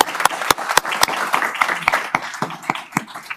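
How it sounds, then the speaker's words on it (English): An audience at a city council committee meeting claps, dense steady applause with sharp individual hand claps standing out, close and fairly loud throughout. "Thank you so much for the applause too"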